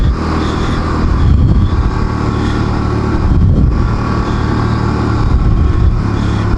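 Quads or pocket bikes riding past near Oliver, BC, their small engines droning and swelling as two machines loop by in turn, fairly close and continuous.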